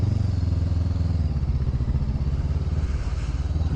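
A 2014 Honda CB500F motorcycle cruises at a steady pace, its engine droning low and continuous with a rhythmic pulsing hum and some wind rush, close and loud with no talking.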